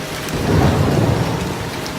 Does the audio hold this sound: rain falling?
yes